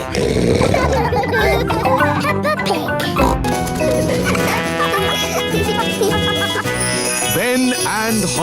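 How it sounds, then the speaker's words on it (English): Cartoon pig oinking from Daddy Pig in the Peppa Pig series, short snorting grunts set over continuous bright music and character voices, loud and busy throughout. "This is Daddy Pig"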